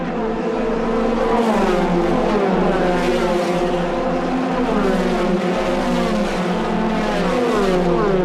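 Formula 3 race cars at the 2005 Macau Grand Prix scream past at high revs, several high-pitched engines overlapping and rising and falling in pitch with gear changes, loud and sustained throughout.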